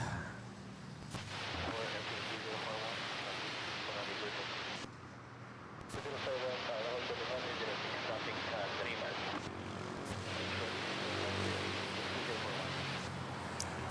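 A jet airplane taxis at Manila Airport toward runway 06, its engines a broad, steady roar at a distance, with people talking over it throughout.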